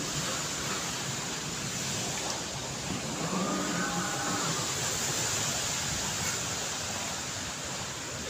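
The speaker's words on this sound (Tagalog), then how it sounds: "Umuugong yung hangin." Typhoon Kristine's wind in Quezon Province makes a steady, broad roar that holds at the same level the whole way through, dense and hissing, with a faint low hum partway in.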